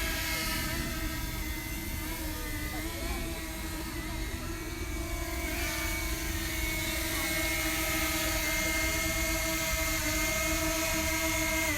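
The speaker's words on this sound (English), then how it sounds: "that'll be the first flight that we'll do with the DJI Mini today" A small DJI Mini drone flying from a bench gives off a steady, high-pitched whirring buzz from its propellers, holding a fairly constant pitch throughout with no voices over it.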